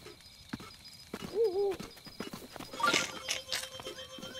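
A horse's hooves clop a few times in the video game Zelda: Breath of the Wild, then a short whinny rises over background ambience, followed by brighter clattering sounds.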